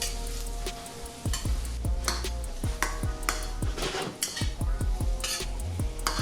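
Celery gets stirred into gnocchi and butternut squash in a pot, with repeated scraping clinks of a utensil against metal over a constant sizzle, close and fairly busy, with no talk.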